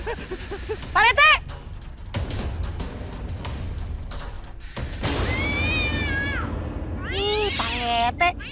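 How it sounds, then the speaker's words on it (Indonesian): A cat meows several times in loud, rising and falling cries, first as a short burst and then as longer wails near the end, while people talk and call out in between. "Itu tuh cuman kucing"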